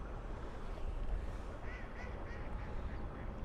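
Ducks quack on a lake as a kayak moves across the water, a few short nasal calls about midway through, faint and partly buried under steady water and wind noise.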